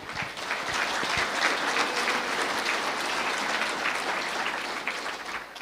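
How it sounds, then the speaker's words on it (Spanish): A church congregation applauds loudly during a service, a thick continuous roar of clapping that swells quickly and stays strong throughout. "Fuerte aplausos, Iglesia de Cristo."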